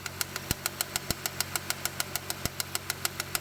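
Idling car engine with a damaged power steering pump, making a fast, regular ticking knock over a steady engine hum, close and continuous with a few heavier thumps.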